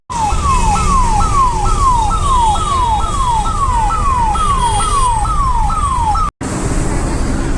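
An emergency siren wails in a rapid, repeating rising sweep over steady road noise in heavy traffic near Vashi Bridge, Mumbai, loud and close, cutting out briefly near the end.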